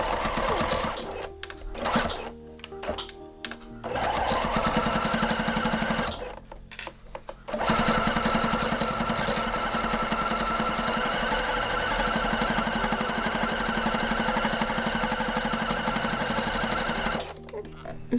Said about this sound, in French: Et là, on va faire une couture au point droit tout le tour.